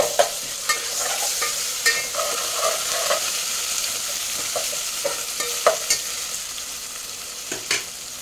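Ginger garlic paste stirs and fries in a pan for meal maker pulao, with a steady sizzle and repeated sharp spoon scrapes at uneven intervals, close and fairly loud, with no talking.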